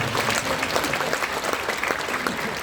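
A church congregation claps together in a short, dense burst of steady applause that fills the whole moment without any speech over it.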